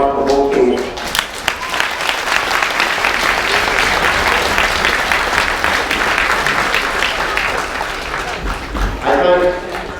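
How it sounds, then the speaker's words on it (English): Crowd applause for both teams at a Junior A Gaelic football final between Downings and Letterkenny Gaels, a steady dense clapping sustained for about ten seconds, loud and continuous, with a public address voice faintly underneath. "a round of applause for both teams"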